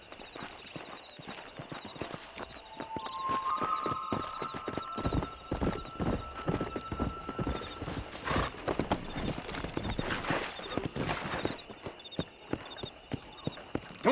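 Horse hoofbeats from Red Dead Redemption clip-clop at a steady galloping rhythm, accompanied by a neigh and a bright whinny, with faint game ambience and brief voices around.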